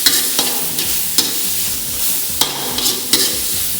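A spoon stirring eggplant curry in a pan, sharp scraping knocks against the metal every second or so over a steady sizzle of frying, close and loud.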